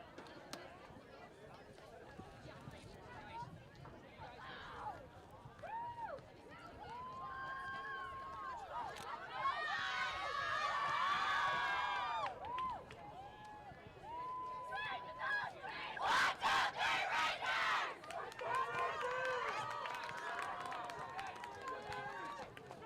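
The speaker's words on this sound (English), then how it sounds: "We're going to take a second and tune in for the Westborough cheer here." Westborough Rangers girls varsity soccer team shouting a cheer at a state quarterfinal game, several young voices chanting in rising bursts with claps, louder in the middle and near the end, over outdoor field noise.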